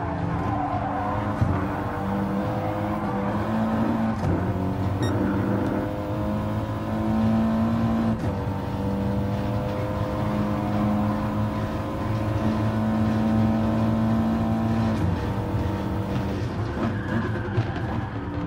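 Race car engines in a racing video game roar steadily and loudly, with several cars revving and whining close together and tyres screeching now and then.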